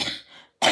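A single cough from a woman recovering at home after ovarian cyst surgery, close and fairly loud, ending in a brief pause before a second sharp burst.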